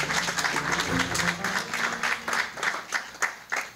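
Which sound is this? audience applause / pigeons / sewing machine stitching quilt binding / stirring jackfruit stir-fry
audience applause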